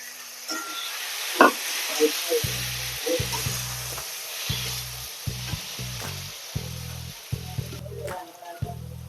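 Rajma beans tumble into a hot pan and set off a steady sizzle, with a sharp clatter as they land and rhythmic stirring scrapes repeating through the frying.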